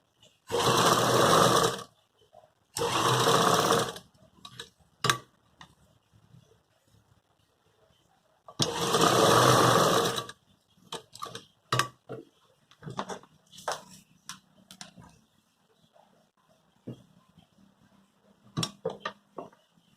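A sewing machine stitches a suit in three steady, whirring bursts of a few seconds each, separated by pauses, followed by scattered clicks and handling taps up close.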